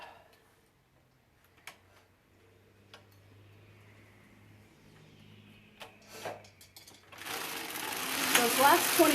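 An LK150 knitting machine knits stripes on a baby blanket: sparse ticks and clicks give way to a loud, harsh rushing clatter of the carriage sweeping across the bed near the end.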